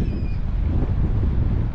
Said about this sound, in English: man, is it windy today.